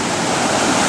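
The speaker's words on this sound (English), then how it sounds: "Give you a little view of the creek here. Where it's coming down." Creek water rushes down its channel in a continuous, close, loud roar, steady and unbroken through the short moment.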